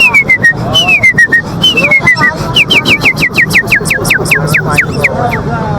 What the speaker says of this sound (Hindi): पहले तो इनकी सीटियाँ बजवाते हैं